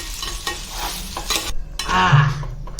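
Egg noodles are stirred in a hot pan, with close scraping and tossing sounds over a steady sizzle of frying, loud and continuous, with no talking.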